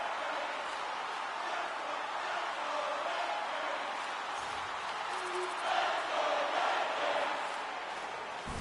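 Crowd roaring steadily at a tied hockey game in an arena, a dense wash of cheering voices that holds throughout and swells slightly around the sixth second.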